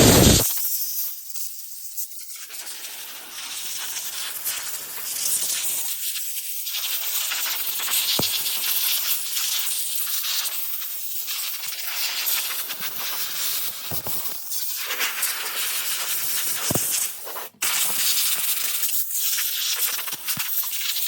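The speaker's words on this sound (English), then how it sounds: "So we're going to use some compressed air, blow this snow off of here real quick." Compressed air blasting snow off a frozen LiPo battery on a Hoss 4x4 RC car, a loud close hiss in long sustained bursts with brief pauses between them.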